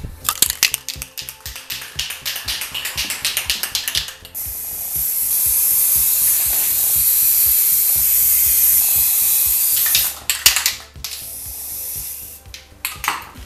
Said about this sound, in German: Deswegen werden wir nur diesen Streifen hier jetzt bekleben mit Sprühkleber und dann aufkleben